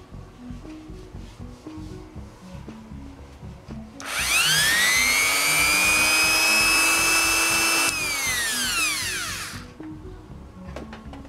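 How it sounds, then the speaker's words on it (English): A powerful, fast power drill bores a hole in a plastic project box, spinning up with a loud high whine that holds for several seconds before winding down, faint handling noise before and after. "Or a more powerful and faster drill, like this one."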